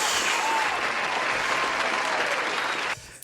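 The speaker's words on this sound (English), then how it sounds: "Give him an applause." An audience claps in a thick, continuous burst of applause that stays loud and even, then cuts off abruptly near the end, leaving a quieter room.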